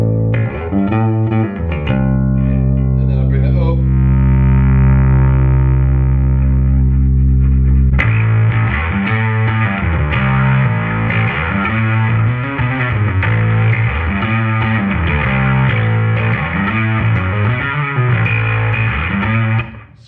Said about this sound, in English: Let's put the drive all the way up so you can hear it as gnarly as it can get.